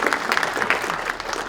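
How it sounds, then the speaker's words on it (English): A conference audience claps for a speaker, a dense burst of applause that stays loud and even for a moment before easing off slightly. "Big applause, please, for Paul."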